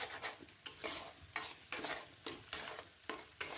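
Egg fries in a pan and is stirred with a spatula, bringing regular scraping strokes roughly every half second over a soft continuous sizzle, quiet and close, with no one speaking.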